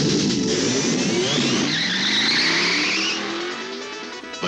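A car drives past, loud and close, with a sustained engine roar whose pitch rises and falls as it passes before fading at the end, with no talk.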